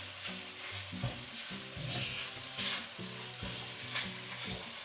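Pork belly slices stir-fried dry in a wok over high heat, with a steady loud sizzle and rhythmic scraping strokes of the spatula repeating every second or so, no voices.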